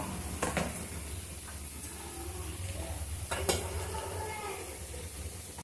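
Ridge gourd cooking down in a pan with tamarind and fresh coriander for chutney, giving a steady low sizzle with occasional scraping stirs and light pan knocks throughout.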